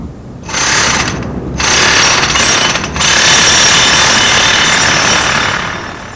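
Self-drilling anchor used as its own drill bit, cutting a fastening hole with a loud, harsh rattling hammer-drill roar that starts, pauses briefly twice, then runs steadily before tapering off.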